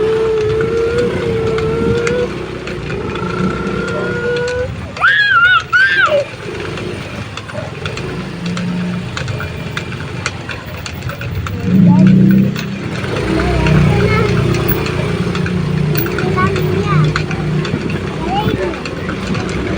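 Motorcycle engine drones steadily through a ride toward Sitio Bakal farm area, with wind and road rumble, a rising rev near the middle, and people talking over it.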